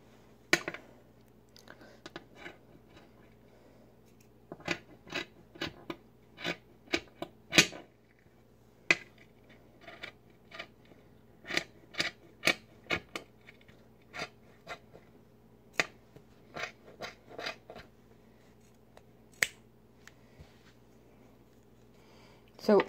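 Scissors snip through red fabric while cloth mask pieces are cut out, giving irregular bursts of sharp close cuts separated by pauses, with a voice talking between them.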